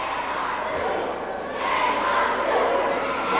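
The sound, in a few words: wrestling crowd voicing frustration at a manager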